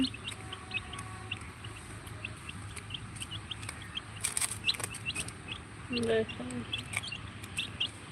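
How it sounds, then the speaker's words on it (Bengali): Tiger chicken chicks give small, repeated high chirps and peeps, with a few soft clucks near the end, over a low steady background hum. "এটা টাইগার মুরগির বাচ্চা"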